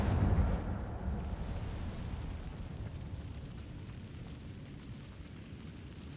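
Incendio fire spell cast in Hogwarts Legacy inside a cave: a loud fiery whoosh bursts at the start, then settles into a steady low rumbling roar that lingers for several seconds, with no voices.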